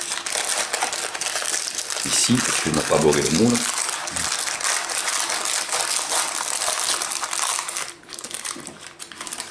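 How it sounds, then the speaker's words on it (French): Baking paper being peeled off a baked chocolate sponge cake, a continuous close crinkling and rustling of paper, with someone speaking French over it briefly. "Retirer le papier"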